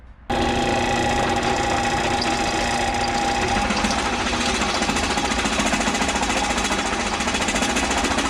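A hole saw bores into material while fitting a mini truck bed, giving a loud, steady power-tool whine with grinding vibration that starts abruptly and holds for several seconds.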